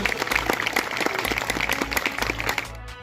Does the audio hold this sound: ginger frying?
no